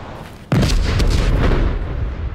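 In the World War I video game Ad Infinitum, a sudden heavy explosion booms in no man's land. A long, dense rumble of artillery follows, loud and close, with no talking.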